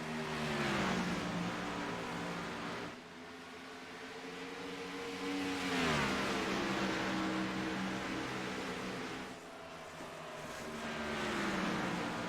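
Race car engines in a racing video game at Dover International Speedway, a continuous loud whine whose pitch rises and falls in long sweeps, with no voices over it.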